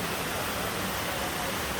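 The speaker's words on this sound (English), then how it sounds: "This is waterfall." Water from a waterfall in a cloud forest pours steadily, a broad, even hiss of rushing water that is moderately loud and continuous through the brief moment, with no other sounds.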